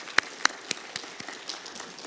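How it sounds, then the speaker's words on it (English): Sparse, scattered claps from a conference audience closing an opening session on climate-smart connectivity infrastructure financing, a few sharp individual claps standing out before fading to a thin patter. "let's give a applause to all of our speakers for their remarks"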